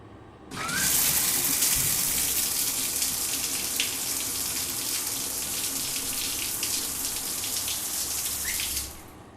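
A steady rush of running shower water in the video game The Milgram Experiment, starting abruptly and flowing loud and continuous for several seconds before cutting off, with no talking.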